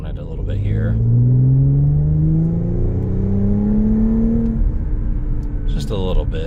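An Audi S5 Sportback Premium Plus Quattro accelerates from inside the cabin, its engine drone climbing steadily in pitch with a low rumble underneath. Brief bits of talk come at the start and end.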